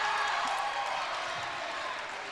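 Girls' basketball crowd at a Hortonville versus Germantown game cheers loudly in a dense, steady roar that slowly fades.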